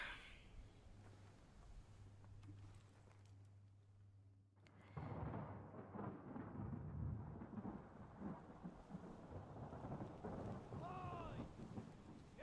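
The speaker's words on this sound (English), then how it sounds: "Storm's coming." Stormy weather in the video game Return of the Obra Dinn, a low muted rumble that swells suddenly into a broad roar of rain and thunder, sustained and fairly quiet overall.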